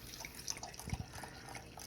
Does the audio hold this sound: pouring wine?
yes